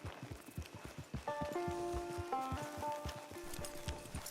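Horse hooves clip-clop steadily at a walking pace in Red Dead Redemption 2, close and clear, with a sustained tonal music or ambient chord layered over the rhythmic footfalls.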